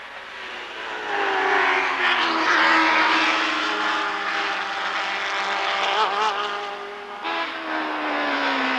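Can-Am race cars lap Lime Rock in 1985, including a Phoenix, a Frisbee and a Photon: several high-revving engines scream past together in a loud, sustained wail that shifts in pitch as they go by.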